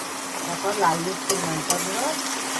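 Diced capsicum sizzling with onions fried until reddish-brown in a home kitchen pan, a steady close crackle broken by a couple of sharp stirring clinks.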